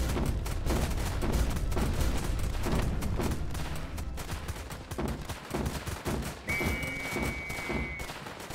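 Artillery and gunfire barrage in the war strategy tower defense game Northend Tower Defense, a dense continuous rumble of shots and booms at steady loudness, with a brief whistling tone near the end.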